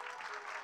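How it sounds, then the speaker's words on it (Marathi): A kirtan audience claps in a brief, dense wash of applause, steady and moderately loud with no gaps. "वाजवा ना टाळी."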